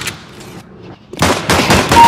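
Dual Berettas pistols firing in the game CS:GO: a burst of several sharp, loud shots in quick succession following a quieter lead-in.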